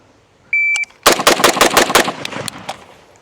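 A Zastava M92 rifle firing GROM ammo outdoors: a brief electronic beep, then a tight burst of about a dozen sharp, loud reports in quick rhythm, followed by a couple of scattered later shots and echoes.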